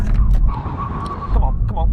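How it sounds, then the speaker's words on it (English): Loud car engine noise with a high tire squeal rising briefly as the car, left-foot braking, makes a full emergency stop from 70 mph, followed by a muffled rumble. "When we reach the line, full emergency stop."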